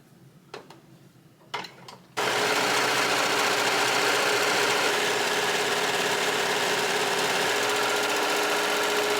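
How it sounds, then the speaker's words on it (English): An overlock serger hems the bottom of a cut top, starting after a couple of soft handling knocks, then running loud and steady with a continuous dense whirring hum for about seven seconds. "What I'm going to do now is serge the bottom of my top that I just cut."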